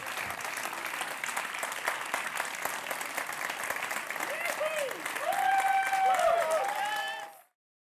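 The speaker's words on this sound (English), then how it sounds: "smile and wave to the to the applauding masses?" Audience applause at a European Youth Awards gala ceremony as winners come forward for a photograph, sustained dense clapping that swells louder toward the end before cutting off abruptly.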